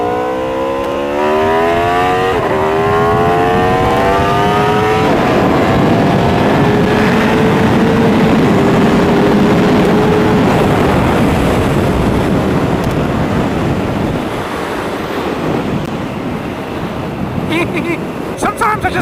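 An Aprilia RSV4 1100 Factory motorcycle cruising on a highway, its engine a loud, steady drone with rising and falling pitch as it shifts, heavily buffeted by wind rush throughout.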